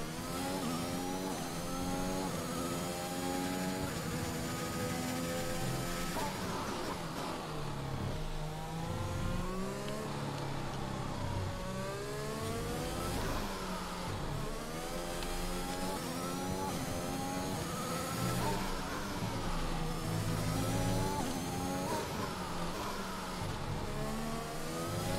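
F1 car engine on a qualifying lap in the game F1 2021, revving high and steady with repeated gear shifts rising and falling throughout, loud and continuous with no talk.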